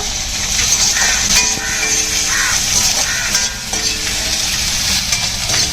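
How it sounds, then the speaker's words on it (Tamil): Onions sauté in a pan for squid thokku, giving a loud, steady sizzle and frying hiss that runs without a break, with faint stirring underneath. "வெங்காயம் பாருங்க நல்லா வதங்கி வருது."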